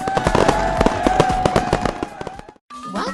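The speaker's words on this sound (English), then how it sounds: "Let's celebrate with those fireworks!" Fireworks sound effect for a celebration, a rapid crackling burst of many sharp pops and bangs, loud and close, cutting out briefly before a final flourish.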